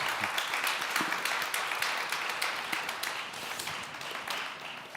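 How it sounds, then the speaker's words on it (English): An audience at a tech conference applauds a panel, giving dense, even clapping that holds for several seconds and slowly tapers. "Give a big round of applause for the panelists"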